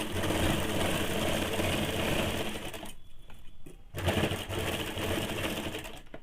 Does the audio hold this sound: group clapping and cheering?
no